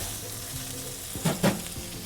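Yangzhou fried rice with shrimp sizzles steadily in a hot wok, close and continuous, with two louder bursts of stirring or tossing clatter in the second half.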